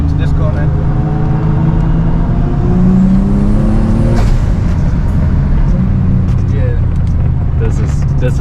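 A big-turbo Infiniti G35 accelerating hard in third gear at a GTR festival, its engine note climbing steadily and loudly, dropping briefly at a shift, then pulling again with wind and road roar.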